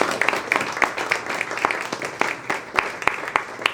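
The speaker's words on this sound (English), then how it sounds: "So let's give them a great round of applause" Audience applause at a school Student of the Month ceremony, a moderate scattering of hand claps with distinct individual claps standing out, steady through the short stretch with no talking.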